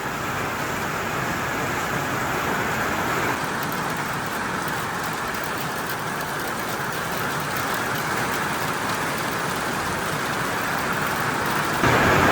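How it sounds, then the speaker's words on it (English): Heavy rain pours steadily outside a garage workshop, a dense, constant hiss and drumming that holds unbroken throughout, loud and close with no talking. "as you can hear, it started heavily raining"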